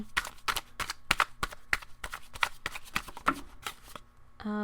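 Tarot cards being shuffled close up, a quick run of crisp riffling bursts in a steady rhythm, ending with a brief different rustle.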